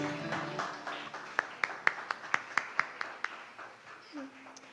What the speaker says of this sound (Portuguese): As palmas é para Jesus.